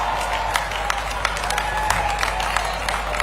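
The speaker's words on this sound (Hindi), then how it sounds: "हम सभी तालियों के द्वारा माननीय मुख्यमंत्री जी का स्वागत कर रहे हैं, अभिनंदन कर रहे हैं" A crowd at a public event applauds to welcome a chief minister, with steady, somewhat distant clapping over a constant low electrical hum and no break in the sound.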